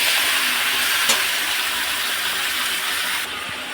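Chicken pieces frying lightly in a little oil, a steady close sizzling hiss throughout with a brief stir or clink near the start, easing slightly toward the end.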